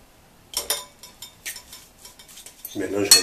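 Sardine rillettes mixed by hand with butter and lemon in a bowl, giving a run of scraping and clinking utensil strokes against the dish, close and fairly loud, with a heavier clatter near the end.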